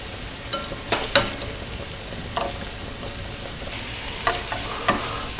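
Shrimp fry over a medium-low flame in a pan, giving a steady, soft sizzle with occasional scraping clicks from stirring, close and moderate in level, without speech.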